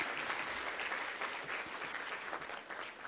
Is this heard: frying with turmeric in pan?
no